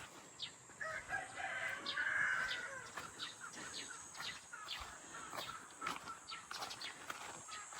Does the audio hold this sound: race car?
no